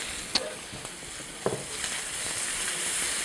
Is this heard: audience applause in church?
no